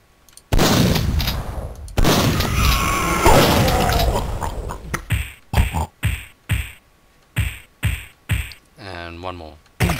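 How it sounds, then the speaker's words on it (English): Shotgun fire in the Duke Nukem 64 video game: a dense stretch of loud blasts and crashing gives way to a string of sharp, evenly spaced shotgun booms, each one punchy and close. "Shotgun's so versatile."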